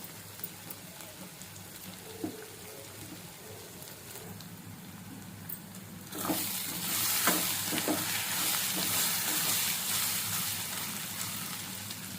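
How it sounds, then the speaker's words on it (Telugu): Onions with turmeric frying in a pan for Telangana-style okra, a steady close sizzle that swells louder partway through as a utensil stirs and scrapes in irregular strokes, with no voices. "పసుపు వేసుకొని మంచిగా కలుపుకోండి ఆనియన్ మొత్తం పసుపుతో కలిసిపోయాక"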